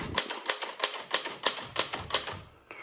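Keys clack steadily on a 1902 Smith Premier No. 2 double-keyboard typewriter, about a dozen sharp close strikes in an even rhythm, with a brief pause and a final lighter tap.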